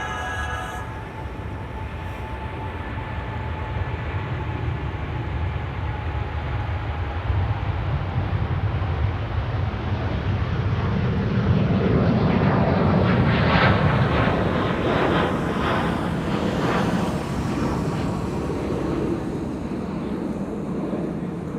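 KLM airliner PH-BKA, first flown in June 2019, departs Amsterdam Schiphol for Kilimanjaro. Its engine roar starts out distant, builds steadily and swells to a broad, sustained rumble that holds for about twenty seconds.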